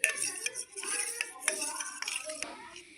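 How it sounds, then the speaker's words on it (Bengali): Homemade tulsi leaf cream stirred together with aloe vera gel, vitamin E capsule oil and coconut oil in a small bowl, with a spoon scraping and clinking close by in short bursts. "তো ভালো করে এখন মিশিয়ে নিব।"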